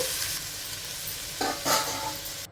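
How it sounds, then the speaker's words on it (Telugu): Broad beans fry in a pan with a steady sizzle, interrupted by a couple of scraping stirs midway, close up and without speech. "ఫ్రై చేసేసుకుంటూ ఉండాలి"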